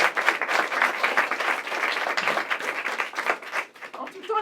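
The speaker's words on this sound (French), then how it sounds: "Ah ben on peut applaudir" Audience applause fills a book presentation, dense clapping from a crowd sustained at steady volume throughout, with a brief murmur of voices near the end.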